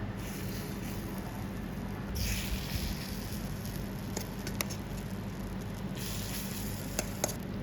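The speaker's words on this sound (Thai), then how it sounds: "พอพิมพ์ร้อนจัดนะคะเราก็หยอด" Egg batter mixed with chopped climbing wattle sizzles and patters in a very hot, lightly oiled takoyaki-style mold. The steady frying hiss stays close and continuous, with a few sharper crackles and pops.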